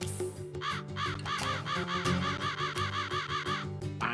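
Crow caws in the video game Wild ARMS 3, a rapid run of harsh, rhythmic cawing calls over a looping game music background, clear and fairly loud with no talking.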